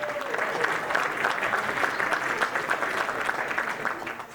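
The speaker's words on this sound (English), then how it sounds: "how about another round of applause for another fantastic Factor artist who entertained us," Audience applause at an awards luncheon for a performing artist, a steady wash of clapping from a seated crowd lasting several seconds at moderate volume, with no talking over it.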